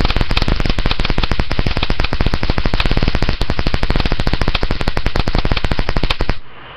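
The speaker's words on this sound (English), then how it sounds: "I got a new stun gun." A Canniks 8 million volt stun gun, Model 800, crackles in a loud, rapid, continuous train of sharp electric snaps for about six seconds, close up, then cuts off abruptly.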